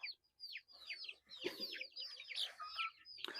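A flock of chickens near a Rhode Island rooster, close, with a quick series of high chirps and clucks rising and falling in short, overlapping bursts.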